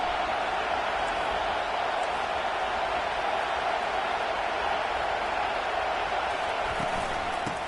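Football stadium crowd at a college game roaring in a loud, continuous wall of cheering noise with no breaks, distant voices blended into a dense wash.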